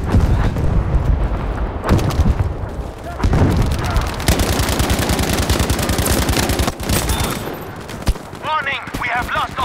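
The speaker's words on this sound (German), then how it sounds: "Aufpassen! Maschinengewehr!" Rapid bursts of machine gun fire rattle through a Battlefield 5 Conquest match, dense and loud, mixed with explosions and shouted voices in the battle chaos.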